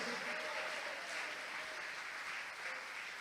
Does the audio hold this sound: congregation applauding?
yes